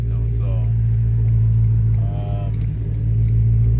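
A car running with the muffler removed gives a loud, deep exhaust drone that idles steadily. Engine revs swell it briefly, while a voice talks over the rumble.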